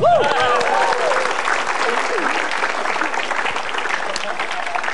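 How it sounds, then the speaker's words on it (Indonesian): Applause from a stand-up comedy audience for comedian Bintang BT, loud and sustained across the whole stretch as a dense wash of clapping, with a brief musical or vocal flourish at the very start. "Tepuk tangan untuk Bintang BT."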